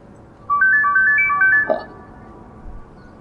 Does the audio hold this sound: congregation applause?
no